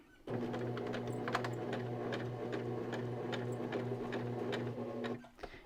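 A sewing machine runs a narrow seam along a small hexagon keychain, its close steady motor hum and rapid needle clatter continuous for several seconds before stopping abruptly at the end.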